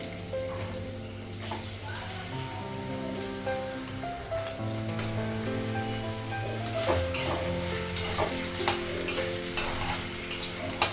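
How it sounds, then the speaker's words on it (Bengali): Onions with spices frying in a pan while being stirred, a continuous close sizzle broken by repeated scraping strokes that grow louder and more rhythmic toward the end, with a faint background hum. "পেঁয়াজটা ভাজা হয়ে গেছে আদা বাটা দিলাম"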